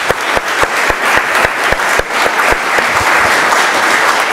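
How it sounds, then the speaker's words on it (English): Loud, close applause from a debate audience, with sharp individual claps punctuating a thick, sustained roar of hands. "So a round of applause to making this happen."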